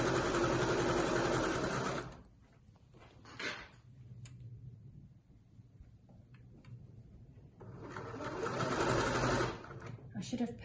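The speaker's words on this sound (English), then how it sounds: "I'm going to come all the way around, sewing those 2 layers together until I come back to the 2 marker clips at the beginning again" Domestic sewing machine stitching two fabric layers together in fast, close bursts, loud at the start and again near the end with a quieter pause between, a voice speaking over parts of it.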